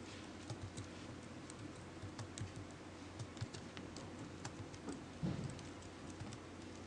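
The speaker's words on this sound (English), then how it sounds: "Okay, so I'm gonna type it in." Typing on a Mac computer keyboard, a steady run of quick, light key taps with small bursts and pauses, close and fairly quiet, with no talking.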